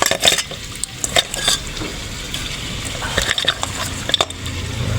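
Spicy bot bot, cooked ginataan style, is sautéed in a pan with scattered sharp clinks and scrapes of a utensil over a low sizzle, close and fairly loud.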